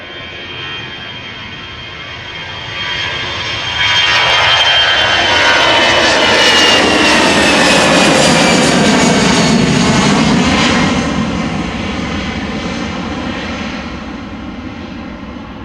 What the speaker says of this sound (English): The next airplane is already spooling up and coming our way.